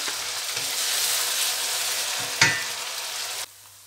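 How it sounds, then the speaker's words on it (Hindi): Onions fry in a pan with a loud, continuous sizzle, a clatter of a utensil partway through, and the hiss dropping away abruptly near the end. "अब इनको भूनेंगे हम अच्छी तरह प्याज को।"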